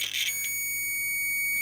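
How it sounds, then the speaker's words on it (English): A multimeter gives a steady high electronic beep during a continuity test across the slip rings of a DENSO alternator rotor, a short clean tone close by with no talking. "you can hear that beep, and that means that there's conductivity through the rotor"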